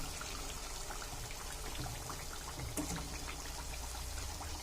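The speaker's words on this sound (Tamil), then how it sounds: "இந்த மாதிரி ஒரு வடிகட்டி வச்சுட்டு ஜல்லடையில் அந்த எண்ணெய் எக்ஸஸ் எண்ணெய்லாம் வடியாகட்டும்." Excess oil trickling off freshly fried crispy tea-time snacks resting in a strainer, a soft, steady dribbling hiss that stays faint and even throughout.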